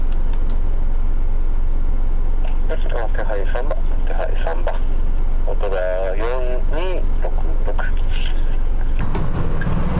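Truck cab interior while driving to another container terminal in Japan, with a steady low engine and road rumble throughout and someone talking over it.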